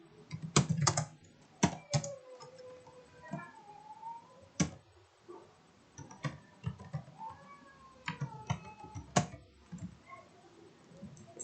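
Computer keyboard typing in irregular clicks and key presses, with a cat meowing several times over the keystrokes.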